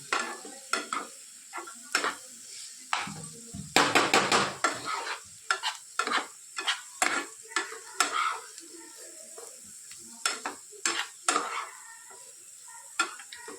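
Tomatoes and onions sautéing in a pan with garam masala and red chilli powder, giving soft sizzling under repeated scraping stirs and light clinks of a spoon against the pan at close range, with no talk.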